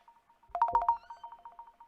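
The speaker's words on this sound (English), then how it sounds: "I think we got a phone call." A telephone rings for an incoming call, a tonal electronic ringtone pulsing in quick repeated beeps, briefly louder in the middle before continuing more softly.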